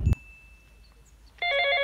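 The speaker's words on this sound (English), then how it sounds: "I want to see your phone dey ring" A mobile phone starts ringing with a bright, warbling electronic ringtone that comes in loud near the end, after a short thump and a quiet stretch.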